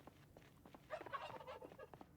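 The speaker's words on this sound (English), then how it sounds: "Apparently there are a few turkeys around." Turkeys gobble in the post-apocalyptic survival game Project Zomboid, a short burst of fowl calls near the middle against a quiet background.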